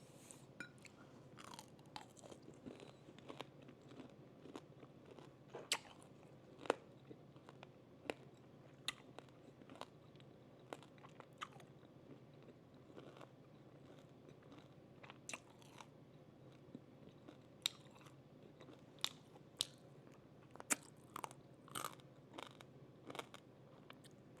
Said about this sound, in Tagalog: Naririnig yung crunchy.